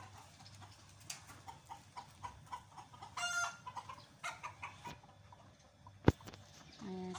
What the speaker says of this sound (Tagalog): Ayan, kikita nyo yung mga manok.